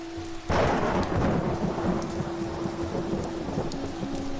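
A loud thunderclap bursts in, then a long rolling rumble over steady heavy rain in a thunderstorm, with no voices.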